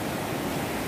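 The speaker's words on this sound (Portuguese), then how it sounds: "Dizer que a cachoeira tá cheia" The Cachoeira da Ema waterfall, running full, gives off a steady, dense roar of rushing water that stays loud and constant throughout with no voices.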